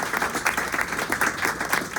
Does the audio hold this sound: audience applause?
yes